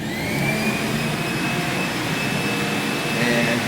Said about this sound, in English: that's the vacuum